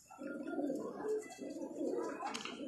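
Soft, close cooing from a Rampuri pigeon, a few rounded low-pitched coos in a short repeating rhythm, quiet and alone without talk.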